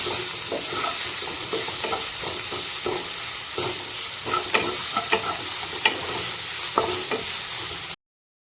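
Onions fry in a pan for kala chana masala with a steady close sizzle, broken by scattered scraping stirs of a spoon until the sound cuts off abruptly near the end.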